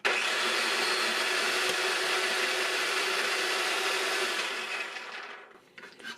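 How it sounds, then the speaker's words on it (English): A Ninja Precision Processor with auto-spiralizer whirs loudly as butternut squash feeds through the spaghetti blade, a constant motor drone that fades and stops near the end. "I'll try the spaghetti blade for the rest of the squash."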